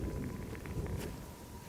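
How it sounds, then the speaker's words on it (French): Thunderstorm in the video game Generation Zero, with a low continuous rumble of thunder and rain filling the background and no talking. "C'est même un gros orage, j'ai l'impression."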